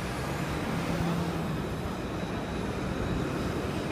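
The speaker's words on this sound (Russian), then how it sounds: "Тут едет трамвай." A tram rolls along a street in Nice, France, a steady broad rumble of wheels and motor with a faint hum, heard up close amid city ambience.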